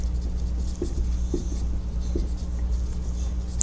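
Someone writes by hand during a pathology lecture, making soft scratchy pen strokes with a few distinct taps over a steady low hum, with no talking.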